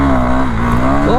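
A KTM Duke 390 Gen 2 motorcycle accelerates hard in first gear, its engine roaring loud and close with a strong sustained tone that climbs in pitch through the burst.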